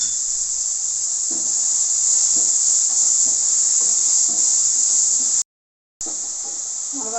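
Tomatoes sautéing in a pan for a mackerel fish curry give a steady, loud sizzling hiss that runs almost without a break, with soft clicks of stirring and one short drop to silence near the end.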